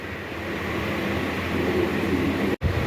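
A slow local train runs from Howrah to Belur Math past the Liluah railway workshop. Its steady, fairly loud rumble fills the moment, with a brief dropout near the end.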